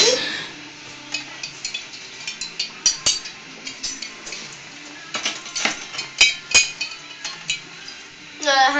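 Stirring yellow colouring into a homemade wizard's brew, with a spoon clinking and scraping against a container in a loose, repeated rhythm, close and fairly quiet, with a few sharper clinks toward the end.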